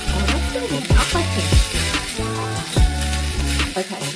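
Rice noodles (mai fen) stir-frying in a tiny miniature wok, a loud steady sizzle with rhythmic scraping stirs and clinks recurring about every second, close up and without talk.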